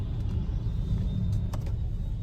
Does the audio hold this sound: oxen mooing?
no